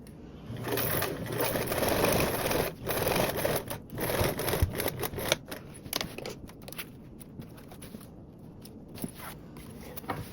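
A sewing machine stitches a blanket backpack made of fabric with a zipper, a rapid close mechanical chatter running steadily, then breaking into shorter bursts and pauses.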